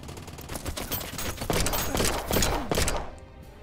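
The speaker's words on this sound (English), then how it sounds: "you've fired all that ammo off and hit nothing" Rapid bursts of gunfire from the WW2: Bunker Simulator video game crackle in a dense fusillade, loud and continuous, with several heavier punctuating shots standing out near the end before it thins.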